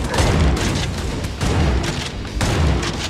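A gun firing in the video game Hellbound, three heavy booming shots roughly a second apart, loud and close, with game ambience between them.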